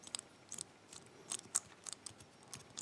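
The number wheels of a Master four-wheel combination padlock are spun by hand, giving a quiet, irregular series of small sharp clicks and ticks close up, with no talk.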